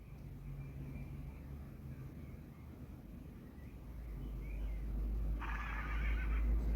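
A horse neighs in the Star Stable Online video game, a moderately loud whinny over steady game ambience with low background music and no talk.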